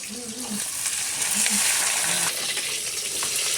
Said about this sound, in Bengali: মাছটা একটু হালকা করে ভেজে নিচ্ছি